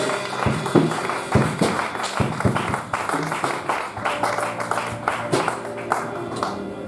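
A church congregation claps together in praise of Jesus Christ, with sharp, fairly rhythmic claps that continue steadily and carry well in the room.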